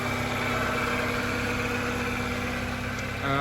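A restored Subaru Impreza GC8 coupe with a 2.2 liter engine idles smoothly, a steady, even mid-low hum heard close and continuous with no talking.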